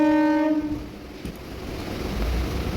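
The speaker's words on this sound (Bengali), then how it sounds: "এবার ট্রেন ছেড়ে দিল" A passenger train heading toward Mayapur near Krishnanagar sounds a loud, steady horn that stops abruptly, then a low rolling rumble builds as it pulls away and runs.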